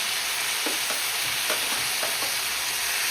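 Onions and tomatoes sautéing in a pan for prawn thokku, a steady soft sizzle with a few light stirring scrapes and taps scattered through, fairly quiet and alone.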